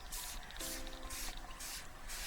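Liquid is poured and spread with a foam brush for Bible journaling, a soft close hiss that comes in regular brushing strokes, about five swipes, with no voices over it.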